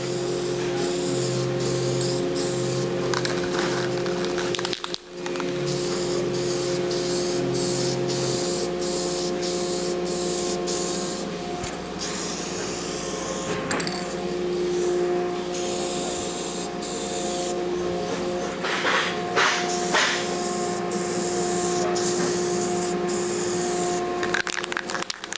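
Lacquer is sprayed in coats onto a copper countertop, a continuous hissing spray over a steady machine hum for about twenty-five seconds, with brief pauses and soft rubbing noises between passes.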